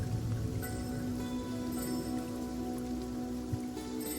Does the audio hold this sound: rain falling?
yes